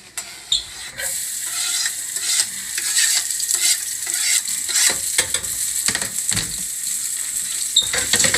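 Garlic sizzles in extra virgin olive oil in a running-hot pan, a steady close frying hiss with scraping and stirring clicks of a utensil against the pan throughout.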